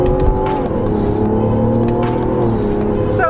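A 2024 Mazda CX-90 three-row family crossover accelerates with a paddle-shift downshift, its engine a loud, steady droning roar with a small shift in pitch, heard from inside the cabin with no talk.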